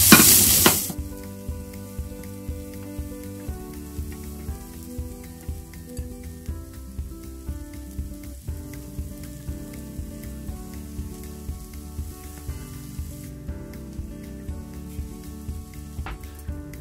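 Finely chopped onion frying in a pan, opening with a loud hiss as it hits the hot oil, then a quieter steady sizzle with regular rhythmic clicks, close up, with no talking.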